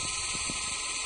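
Low-battery warning alarm on a home-built helicopter: a steady, loud, piercing electronic tone that holds without a break, with faint mechanical ticking beneath it.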